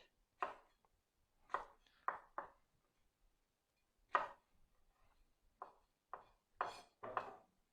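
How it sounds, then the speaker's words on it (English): Large chili peppers are cut with a knife on a board, a handful of sharp separate chops spaced irregularly, close and clear against a quiet background. "So to prepare the large chili, I'll just cut off the head."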